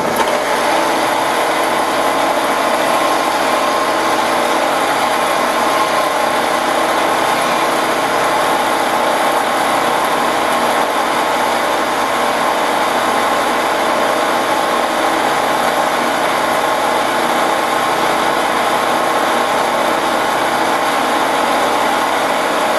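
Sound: drill running at high speed while repairing a Lincoln welder switch

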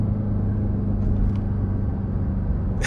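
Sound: Jeep Trackhawk engine with supercharger whine driving

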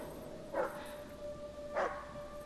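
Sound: dog barking in Hidden Agenda video game

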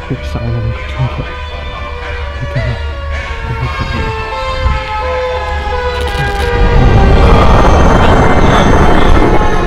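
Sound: Siren Head creature's siren call in a horror video game

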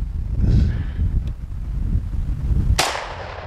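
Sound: gunshots fired at Kevlar ArmorCore ballistic panel

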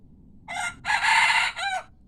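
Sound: rooster crowing

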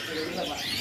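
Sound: belatik bird call at bird market

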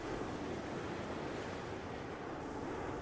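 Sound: sea waves

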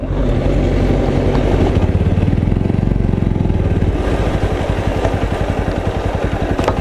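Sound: Bajaj Pulsar NS125 motorcycle being ridden

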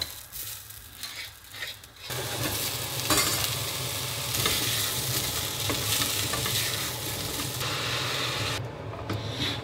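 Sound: shrimp and chicken pieces frying in a pan

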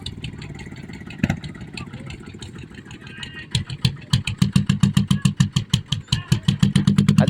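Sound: green motorcycle engine started and idling

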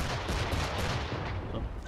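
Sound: cannon fire in video game Assassin's Creed 3

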